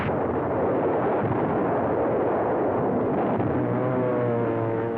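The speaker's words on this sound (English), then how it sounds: "A Jap airfield is blasted by high explosives." Bombs of high explosive burst on a Japanese airfield in wartime newsreel footage: a continuous roar of blasts and rumbling, with a droning aircraft engine rising near the end.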